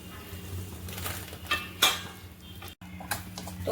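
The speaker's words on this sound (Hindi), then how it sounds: "तो कंटिन्यू हमें चलाते हुए दलिया को भूंज लेना है।" A spoon stirring broken wheat (dalia) as it roasts in ghee in a pan, giving light scraping clinks and taps at an uneven pace over a low steady background hum.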